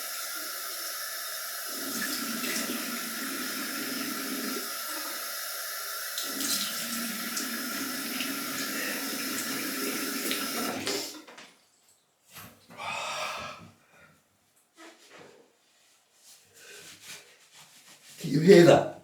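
Cold water runs steadily from a tap for about ten seconds as a loud continuous splash, then cuts off, leaving brief scattered handling noises and a short voice near the end.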